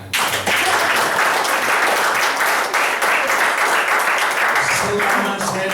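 An Indonesian company gathering's audience erupts in loud, steady clapping that fills the hall for several seconds without pause.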